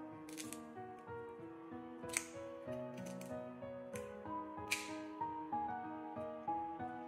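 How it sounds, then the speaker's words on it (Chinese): Kitchen scissors snip the fins and tail of a sea bass into a swallowtail shape, several sharp close clicks and cuts at irregular intervals over quiet handling noise. "接着将鱼的尾巴也给它修剪成一个燕尾"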